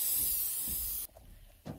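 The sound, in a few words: spraying butter spray onto a pancake pan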